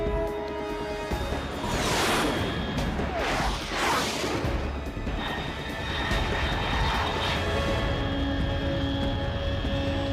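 Aircraft roaring in the Metal Gear Solid 3 video game, a loud, steady engine drone with whooshing swells as it passes, over game music.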